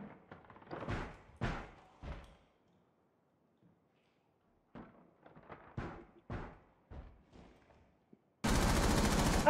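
Bursts of gunfire in a ranked Rainbow Six Siege match: several quick shot clusters early, a quiet stretch, then more rapid shots followed by a loud sustained burst at the end.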